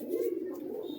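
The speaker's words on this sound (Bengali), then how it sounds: "এটা হচ্ছে নর পায়রা" A male pigeon gives one short, low coo, quiet and close.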